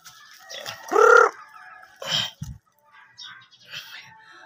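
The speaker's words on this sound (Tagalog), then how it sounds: "Ayan yung mini farm ko ng mga manok." Chickens on a small backyard farm cluck and squawk close by, one loud drawn-out call followed by scattered shorter clucks and pauses.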